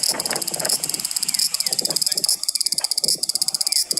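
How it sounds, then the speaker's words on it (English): A cicada sings loudly from a tree close by in Japan, a harsh, rapidly pulsing buzz that fills the clip, with a softer rhythmic chirping underneath. "that was a cicada in a tree like right there next to me. It was so loud."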